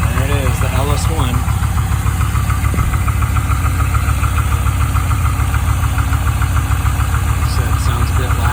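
An LS1 V8 with the exhaust dropped at the axles into two mufflers idles loudly and steadily close by, a deep rhythmic burble throughout, with a voice talking briefly near the start.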